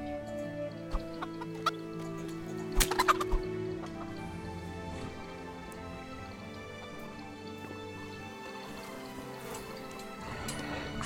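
Chicken clucking in Kingdom Come: Deliverance, a burst of loud flapping and squawking near the start, then softer scattered clucks over a quiet ambient background.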